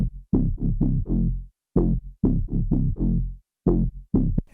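Behringer Model D synthesizer, a recreation of the Moog Model D, plays a deep, punchy bass line in rhythmic groups of short plucked notes separated by brief pauses, loud and upfront with no voices.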